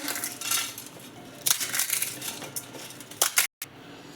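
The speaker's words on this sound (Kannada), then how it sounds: "ಈಗ ಪುರಿ ತೊಗೊಂಡಿದ್ದೀನಿ ಪೂರಿನ ಈ ಥರ ಕ್ರಷ್ ಮಾಡ್ಕೋಬೇಕು" Crisp puris for masala puri are crushed by hand over a plate, giving close, crackling crunches and light clinks in irregular bursts, with a short silent gap near the end.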